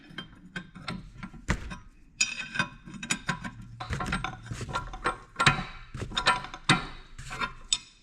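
A 1 1/8 wrench snugs down the pinion in a John Deere 430 two-cylinder tractor transmission, with a series of close metallic clicks, taps and ratcheting knocks in an uneven rhythm and no talk.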